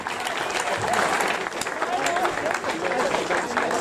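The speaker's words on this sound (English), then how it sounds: "So can we all give a big round of applause for Tina Zircom?" Steady applause from a crowd at a 50th celebration party, a dense continuous wash of many hands clapping throughout, with voices and cheers mixed underneath.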